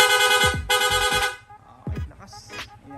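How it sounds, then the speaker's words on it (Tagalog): A loud aftermarket rapid horn fitted to a Yamaha Sniper 155 motorcycle blasts in quick repeated honks, two long bursts followed by shorter pulses, close and dominant with no talk. "Okay, sir, pa-rapid horn naman."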